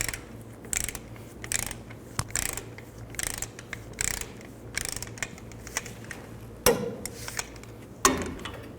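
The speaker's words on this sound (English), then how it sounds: "Then tighten the caliper bolts to 80 foot-pounds." A ratchet clicks in repeated short bursts while tightening rear brake caliper bolts on a 1999-07 Chevy Silverado 2500, the quick pawl ticks close and fairly quiet, with a couple of sharper metallic knocks.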